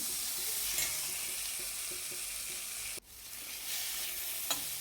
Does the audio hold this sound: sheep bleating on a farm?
no